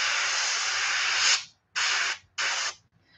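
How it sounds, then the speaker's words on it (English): Paint sprays through a stencil onto a crappie swimbait lure in a close, hissing burst of about a second and a half, followed by two shorter bursts with brief silences between. "Most of the spray is going on the stencil and then you're just getting a lot of overspray onto the fin."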